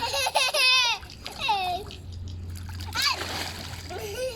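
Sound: water splashing in a swimming pool

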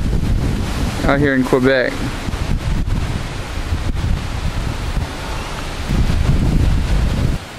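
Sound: wind blowing over farmland

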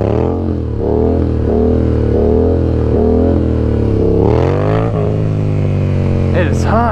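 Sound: Yamaha MT-07 motorcycle engine revving during stunt practice

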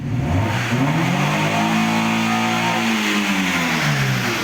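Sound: Fiat car engine revved at full throttle

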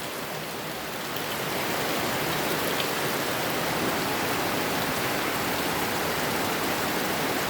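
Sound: rain falling in Cox's Bazar district

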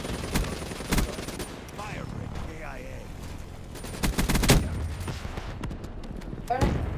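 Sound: gunfire in Call of Duty: Black Ops 3 video game

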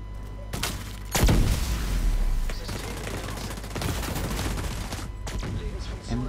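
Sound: gunfire in video game The Division 2

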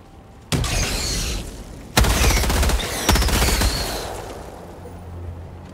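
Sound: grenade explosion and gunfire in the video game Helldivers 2

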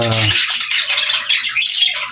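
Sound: cockatiel squawking

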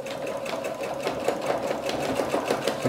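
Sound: sewing machine stitching jeans hem

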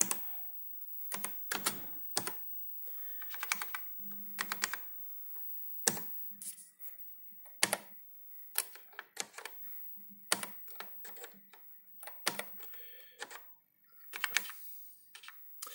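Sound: typing on an Amstrad 6128 Plus keyboard

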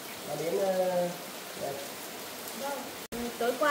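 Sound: heavy rain

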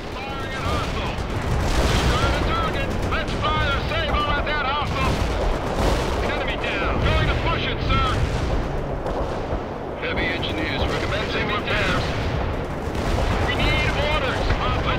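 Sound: incoming mortar fire in the World in Conflict video game

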